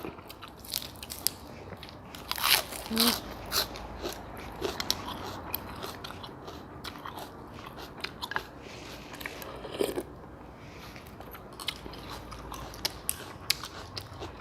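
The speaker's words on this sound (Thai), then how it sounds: "ผักนี่กรอบมาก" Crunchy fresh vegetables are bitten and chewed alongside a bowl of pork noodle soup. Repeated close, crisp crunches and chewing sounds follow one another in an uneven rhythm, fairly quiet and with no talk.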